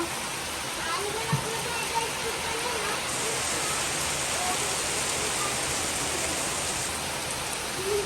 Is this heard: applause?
no